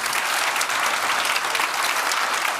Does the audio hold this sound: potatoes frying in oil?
no